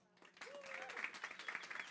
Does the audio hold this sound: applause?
yes